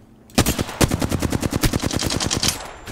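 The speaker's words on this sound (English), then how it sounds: "I'm getting shot at." Rapid automatic gunfire from the video game Apex Legends, with a dense string of loud, evenly spaced shots that rattle on for about two and a half seconds without a break, and no talking over it.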